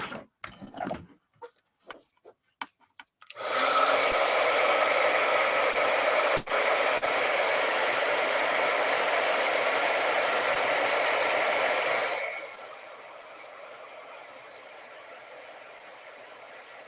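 A hair dryer blows steadily on a paint palette, starting abruptly after a few faint clicks and running as a loud, even whoosh for about nine seconds before cutting off, leaving quiet background.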